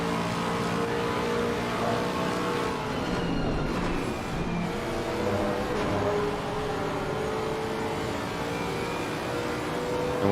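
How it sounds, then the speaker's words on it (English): A race car engine in a racing video game roars steadily throughout, loud and sustained with shifting pitch, with no talk over it. "if you want to hear one of the best sounding engines in the game, I can confirm it sounds this good in real life too"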